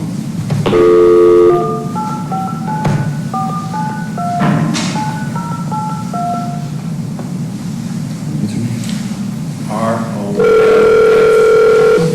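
A telephone call being placed in a courtroom: a rapid series of dial-tone beeps plays over steady room noise, followed by a longer ringing tone near the end, with a voice speaking briefly underneath.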